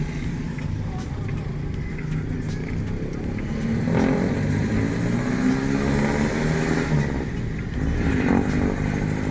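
A first-generation Suzuki Celerio on a test drive after ABS sensor, rack end pinion and clock spring repairs turns a corner, its small engine humming and rising in revs under someone talking.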